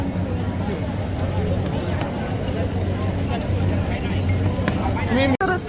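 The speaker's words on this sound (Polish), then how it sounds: "Beef przyszło takie gorące, jeszcze smażące się." Hot beef keeps sizzling on its plate at a busy Kuala Lumpur street food restaurant, a constant frying hiss under close conversation, crowd babble and passing traffic.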